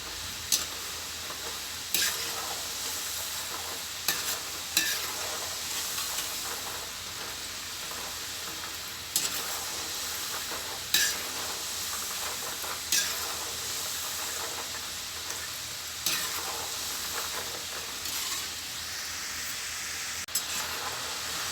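Steady, loud sizzling and bubbling of salted seedai dough balls deep frying in hot oil, with occasional sharp clinks and scrapes from stirring.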